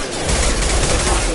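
Dense, sustained gunfire in the Mass Effect 2 video game, aimed at hostile mechs: a loud, continuous rattle of rapid shots packed together across the whole moment, with a voice faintly mixed in.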